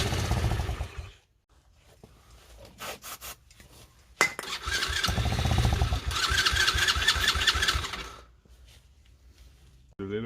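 Chinese 110cc ATV engine after carb cleaner sprayed into the air filter: a few cranking attempts and short sputters, then a rough, loud running burst lasting several seconds before it dies away.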